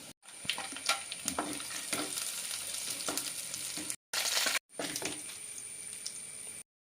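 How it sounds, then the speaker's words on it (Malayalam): Coconut pieces, onion and chili fry in hot oil in a pan for a jackfruit seed curry garnish, a steady close sizzle with bursts of stirring scrapes, broken by two brief cuts, with no talk. "നമ്മൾ തേങ്ങാക്കൊത്തും ഉള്ളിയും മുളകൊക്കെ നല്ലപോലെ മൂപ്പിച്ചെടുത്തിട്ടുണ്ട്"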